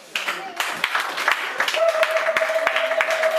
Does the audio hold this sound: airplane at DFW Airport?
no